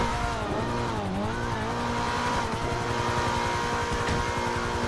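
A car rolls downhill in the GTA V video game, its engine droning steadily with faint tire noise throughout, loud and continuous, with no voices.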